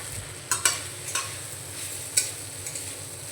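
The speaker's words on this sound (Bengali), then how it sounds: "এই ঘিয়ের মধ্যে আমি চিড়েগুলো একটু ভেজে নেব হালকা করে" Flattened rice (chira) frying in ghee in a wok over a low-to-medium gas flame, a soft, quiet sizzle broken by several sharp spatula scrapes and clacks against the metal.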